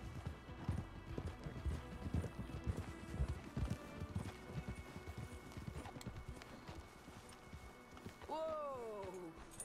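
Horses trotting in the Red Dead Redemption 2 video game, a steady run of hoof clip-clops under game noise and some talk, with a horse's whinny near the end.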